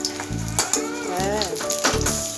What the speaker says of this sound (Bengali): দেখে উল্টে পাল্টে বড়গুলো ভেজে নেবো